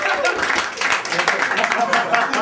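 A group claps after a live show on a touring production, brisk overlapping hand claps rising and dipping in bursts while someone keeps talking over them.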